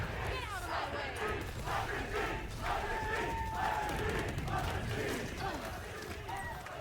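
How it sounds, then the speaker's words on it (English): Arena crowd at a Valorant Americas League esports match on Pearl roars continuously through a team timeout, a loud, dense wall of cheering and shouting that stays sustained the whole time, with a caster's voice heard over it. "What reverberations from the crowd. You can feel it up on their feet."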